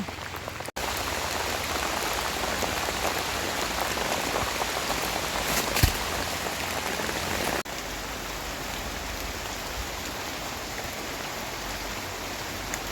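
Steady heavy rain pours down, a dense continuous hiss of drops striking surfaces, with one brief knock partway through and no voices.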